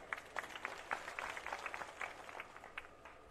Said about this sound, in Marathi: आपण सगळ्यांनी टाळ्या वाजून स्वागत केलं पाहिजे.